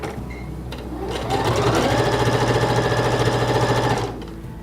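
A Singer Confidence 7640 sewing machine runs a straight stitch. The motor whirs up, holds a steady rapid needle chatter for about three seconds, then winds down and stops.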